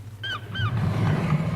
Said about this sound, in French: Ici, vous n'avez pas entendu les mouettes?